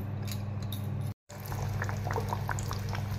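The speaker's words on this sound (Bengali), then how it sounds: "এরকম করে প্রত্যেকটা ডাল দিয়ে আমি ভেজে নিচ্ছি।" Lentil-stuffed dal puri frying in hot oil makes a continuous bubbling sizzle that cuts out briefly, then resumes with scattered small pops.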